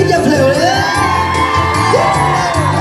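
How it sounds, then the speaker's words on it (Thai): A crowd at a mini concert screams and whoops in excited bursts, loud and close, with rising shrieks over a steady roar of voices and music. "เอาเสียงกรี๊ดเสียงกรี๊ดอย่าเพลินเล"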